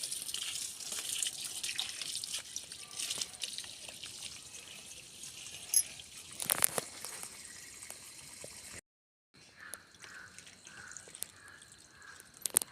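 Steady rushing water from a tank pours continuously under strong pressure, with scattered drips and splashes; the flow briefly cuts out near the end, then resumes more softly.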